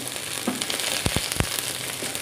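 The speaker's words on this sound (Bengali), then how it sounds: "ঢেঁড়সগুলো ভেজে নিলাম" Okra frying in hot oil in a home kitchen for a Bengali potato and poppy seed dish: a steady soft sizzle with a few brief louder crackles and pops in the middle, close and alone.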